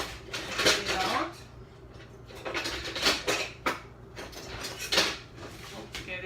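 A cake is lifted out of a cooking pan and set onto a plate, bringing a run of close metallic scrapes, clinks and knocks of utensil against pan, in bursts with quiet gaps between them.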